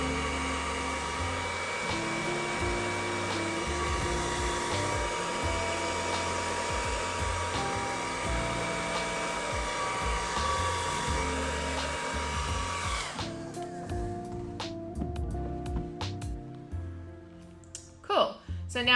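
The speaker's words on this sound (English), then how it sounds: "you can actually use a hairdryer to push the resin up" A hairdryer blows steadily and loudly on poured resin on a cheeseboard for about thirteen seconds, then cuts off, leaving scattered clicks and handling noises.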